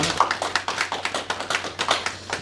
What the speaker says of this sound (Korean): 우리 축하의 박수 하시겠습니다